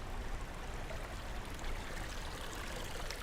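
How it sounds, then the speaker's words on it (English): Steady rush of running water in a brand new public space in Tenjin, Fukuoka, Japan, a dense continuous splashing flow heard up close with no voices. "Nice running water here"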